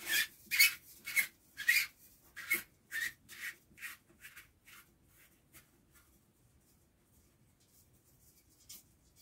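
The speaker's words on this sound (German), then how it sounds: "schrauben wir mal wieder raus" A screw is backed out of a piece of wood by hand, giving a series of rhythmic squeaky rubbing turns that start fairly strong and fade to soft, slower twists before stopping.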